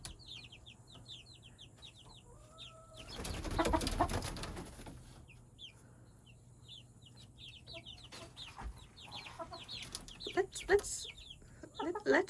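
Baby chicks chirp and peep in quick bursts throughout, close and soft, with a louder flurry of scuffling and flapping partway through and a person speaking quietly at times.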